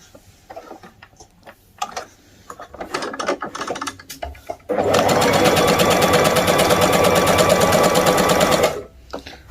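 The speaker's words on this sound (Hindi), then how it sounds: "अभी साइड की सिलाइयाँ लगाऊंगी" Sewing machine stitching the side seams of ladies' trousers: light fabric handling and clicks first, then a loud, steady, rapid mechanical whirring run for about four seconds before stopping.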